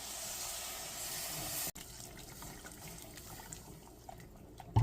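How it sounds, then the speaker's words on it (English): Beef bouillon pours into a pan of gravy with a steady liquid hiss and splash, cut by a brief pause partway before the pour continues more softly. "And then we want to add 2 cups of beef bouillon, just adding a little at a time."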